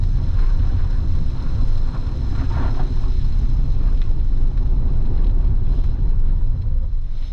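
A 2025 Hyundai Santa Fe XRT hybrid accelerating at full throttle, heard from inside as a loud, steady low engine drone mixed with heavy rushing road and wind noise, with no talking.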